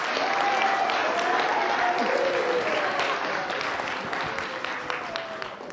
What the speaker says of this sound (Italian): Un applauso, direi.